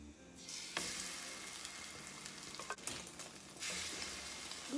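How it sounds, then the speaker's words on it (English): Egg toast slices frying in butter in a pan with onions, a steady loud sizzle that swells and dips with sharp crackles and a few pops, no voices. "We're gonna wait for the toast to fry on the first side."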